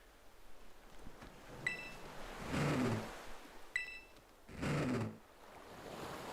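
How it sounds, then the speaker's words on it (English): Ocean waves washing onto a sandy beach in the video game Pokémon Scarlet, two soft surges rising and falling a couple of seconds apart over a quiet breezy background, with brief chiming tones between them. "That breeze by the beach and the ocean waves crashing against the sand."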